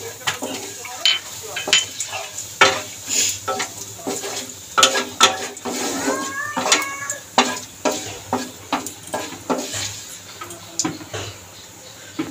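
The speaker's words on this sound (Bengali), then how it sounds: "ফোড়নটা একটুখানি ভাজা করে নেবো নেড়ে।" Whole cumin seeds and bay leaves frying as a tempering in hot oil, a steady sizzle broken by repeated sharp scrapes and knocks of a utensil stirring in the pan, close and fairly loud, with no talk.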